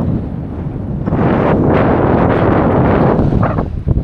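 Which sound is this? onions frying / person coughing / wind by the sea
wind by the sea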